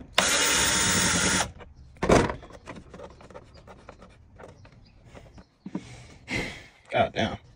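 A cordless drill backs screws out during an oil change on a Dodge Challenger R/T. There is one loud steady whir at the start and shorter buzzes later, mixed with handling noises and breathing.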